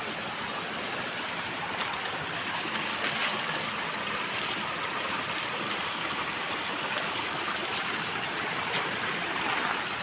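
Clear river water flows and tumbles down a fall, a continuous broadband rushing wash that stays steady and even for the whole stretch with no voices.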